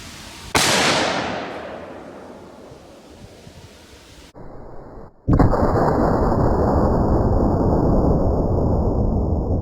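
7.62x39 rifle fired from the prone position outdoors: a sharp, loud blast with a long rolling echo, followed by another strong report that leaves a steady roar and ringing.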